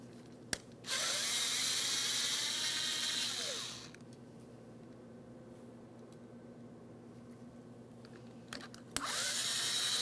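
A power driver spins out three T25 Torx screws from the front window motor of a 2003-2008 Toyota Matrix 1.8L L4, giving a steady high whine for a few seconds, a quiet gap, then a second burst starting.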